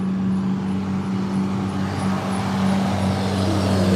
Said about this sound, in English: And then this engine sound, is he one too? It's this white truck.